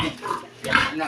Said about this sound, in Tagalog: Dini naman po, mga baboy.